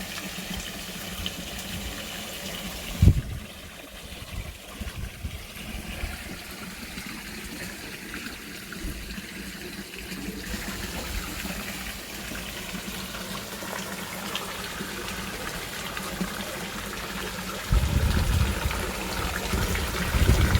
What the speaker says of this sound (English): the waterfall's going all over the place